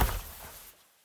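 Slowed-down Foley of a rubber raincoat being handled: one heavy, muffled thump-like rustle that starts loud and fades away within about a second, heard alone.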